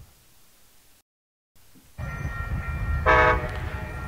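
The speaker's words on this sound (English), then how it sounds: "Here comes our manifest after the crew change" A manifest freight train arrives at a rail crossing in Fremont, Nebraska. Quiet ambience gives way to rising engine rumble, and a brief, loud horn blast sounds near the end.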